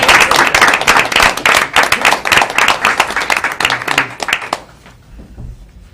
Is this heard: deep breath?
no